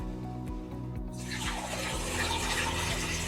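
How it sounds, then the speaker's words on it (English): Cool water pours steadily into a crock pot holding about two pounds of chicken legs for bone broth, a close, continuous splashing fill that grows fuller and brighter as it goes, with a low hum underneath. "The next step is to add 8 to 10 cups of cool water."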